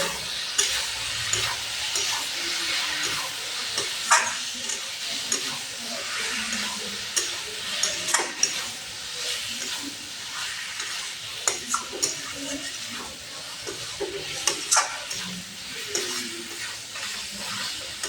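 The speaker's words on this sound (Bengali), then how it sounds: "আর লাল লঙ্কার গুঁড়া ভালো করে মিশিয়ে নিব।" Red chili powder stirred into a simmering pangas fish curry: a continuous sizzling hiss with repeated close scraping and knocking strokes from a spoon against the pan.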